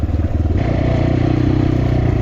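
A Kovi 250 PRO motorcycle engine idles and runs steadily up close, a loud, rhythmic throbbing with a slight rise in pitch partway through.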